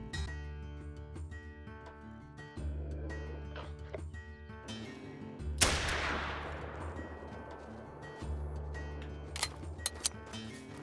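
A .243 pistol fires during a hunting video game, one sharp crack standing out over quiet ambient game sound and soft background music, followed by a few small clicks.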